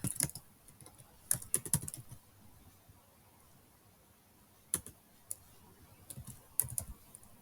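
Keys on a computer keyboard are tapped while a formula is typed into a Power Query custom column, in sparse clusters of faint clicks with quiet gaps between them.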